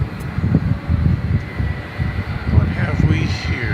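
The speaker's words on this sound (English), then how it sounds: "That was American Eagle Flight 3661 in Embraer 175 off to Springfield." Embraer 175 jet airliner of American Eagle departing DFW Airport at night, a steady low engine roar with rising whine, heard under ongoing talk.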